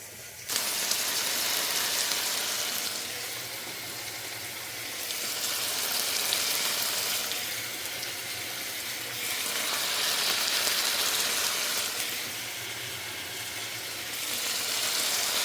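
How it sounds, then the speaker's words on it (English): Ingredients for a leftovers ramen sizzle and hiss as they fry in a hot wok, a steady crackling fry that swells and eases in repeated waves throughout. "we're gonna pop these into the wok because I think it's hot enough now and it's probably gonna sizzle"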